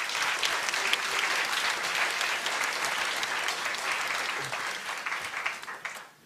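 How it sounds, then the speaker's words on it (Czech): An audience at a panel discussion gives a sustained round of applause for panelist Anna Davčíková. The dense, even clapping fills the room before tapering off abruptly at the end. "Čiže naozaj veľký potlesk pre Annu Davčíkovú."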